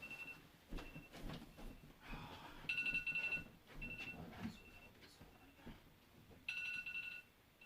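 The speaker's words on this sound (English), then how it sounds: "that was just my mom's iPhone alarm" An iPhone alarm rings in two short bursts of bright electronic tones, heard faintly in a quiet room, with some soft background rustling between them.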